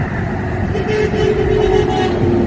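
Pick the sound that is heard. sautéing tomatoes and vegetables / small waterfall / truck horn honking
truck horn honking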